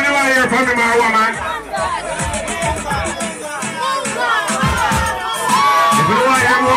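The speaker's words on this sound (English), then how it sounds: "give her the Munga round of applause" A lively crowd at a riddim launch party cheers and shouts, with excited whoops and high-pitched voices rising and falling continuously and loud chatter mixed throughout.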